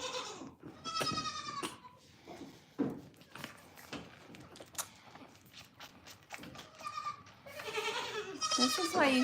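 Dairy goats from a herd of 71 bleat repeatedly and close by during morning chores, overlapping calls rising and falling with rustling and handling noises between them, loudest at the end.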